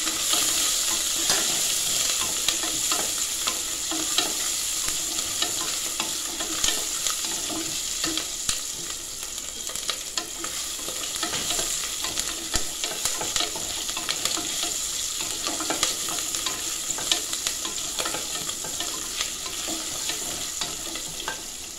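Chopped green chillies stir-fried in hot oil with whole spices, a continuous close sizzle and crackle with regular scraping stirs for about twenty seconds and no voice.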